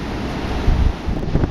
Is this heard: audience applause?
no